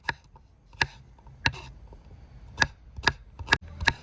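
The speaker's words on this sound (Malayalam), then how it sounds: "അടുത്ത് നമുക്ക് കൊച്ചുള്ളിയാണ് ചെറുതായിട്ട് മുറിച്ചിട്ട് കൊടുക്കുക" Knife chopping small shallots on a cutting board while preparing squid roast; seven sharp, separate thuds at uneven intervals, close and clear over a quiet background.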